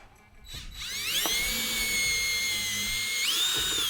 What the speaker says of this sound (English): And now that we got a hole set up, let's go ahead and drill it out.